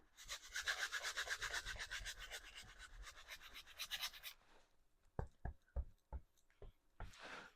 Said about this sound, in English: Just using my 2-inch brush and just scrubbing that paint on.